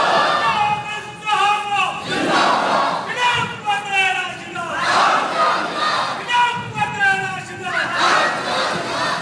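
Large crowd at a Sunni religious conference chanting slogans in loud, rhythmic unison, surging and repeating in waves throughout, with no single voice standing out.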